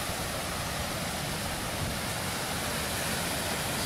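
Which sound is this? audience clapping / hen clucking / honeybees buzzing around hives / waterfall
waterfall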